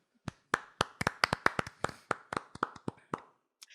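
Hands clap about fifteen times in a loose, uneven rhythm, each clap sharp and close, with a final isolated clap after a short pause and no talking.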